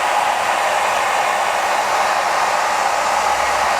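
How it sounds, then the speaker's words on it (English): A hairdryer blows steadily at close range, heating decals on a model car, a constant airy whoosh with no other sounds. "I'm just going to use my hairdryer and actually just apply a little bit of heat to the decals."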